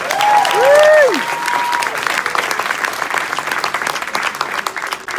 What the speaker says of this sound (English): big round of applause for Jason Hackman